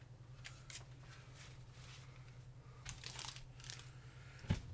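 Scissors snipping open a Leaf Wacky Wafers candy wrapper, with soft crinkling plastic and a few brief cutting sounds close by, followed by one sharper snip at the end, quiet and with no talking.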